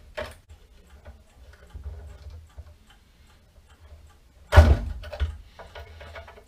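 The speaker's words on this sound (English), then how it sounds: "There's the movement out of its casing." A vintage mantel clock movement being worked out of its casing: quiet scattered ticks and light metallic handling, then a louder knock and clatter near the end, close and with no voices.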